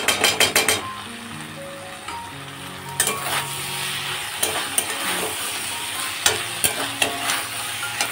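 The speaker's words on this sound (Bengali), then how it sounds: "বন্ধুরা এখানে একটা হাঁসের ডিম ভাজছি" A duck egg fries in a pan with a steady, close sizzle, opening with a quick run of sharp utensil clinks and then scattered scraping taps over the hiss.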